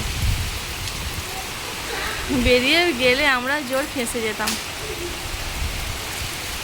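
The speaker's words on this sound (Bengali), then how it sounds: "প্রচুর জোর ঝড় হচ্ছে, বিশাল বৃষ্টি হচ্ছে" Heavy rain pours steadily during a storm, a constant broad hiss close by, with a person talking over it partway through.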